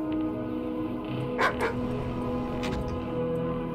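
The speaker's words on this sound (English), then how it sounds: "Is Big Dog still awake?" A big dog barks in the Doom II MyHouse.WAD level, a few muffled barks somewhere off in the distance over steady game ambience and background music.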